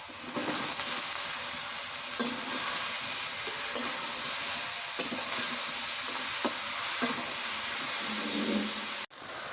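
Beans, potato and onion flowers frying in a pan, a steady close sizzle and hiss broken by occasional soft stirring knocks, with no voices.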